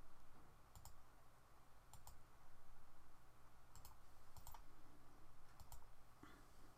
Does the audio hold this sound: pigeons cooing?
no